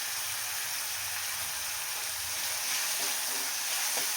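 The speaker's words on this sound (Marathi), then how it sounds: "टोमॅटो आणि कांदा आहे ते आपल्याला छान परतून घ्यायचं" Onion and tomato sauté in a pan with turmeric on low heat, giving a steady soft sizzle and crackle with faint stirring clinks near the end, no talk.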